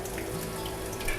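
Cucumbers being washed in water for pickling, a soft, steady splashing and trickling close by with no talk.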